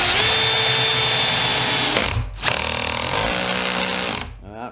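A drill driver sets a screw into a piece of wood close up, a loud steady whir that halts briefly midway, resumes, then spins down at the end.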